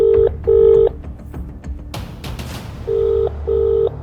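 A phone call is dialed with four clear, loud keypad tones: two quick beeps, a pause with faint room noise, then two more matching beeps.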